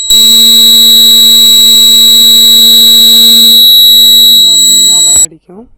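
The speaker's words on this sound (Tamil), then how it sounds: "அலாரம் அடிக்கும்." An irrigation water level alarm buzzer sounds a loud, steady electronic tone for about five seconds, then cuts off abruptly, with a brief voice afterward.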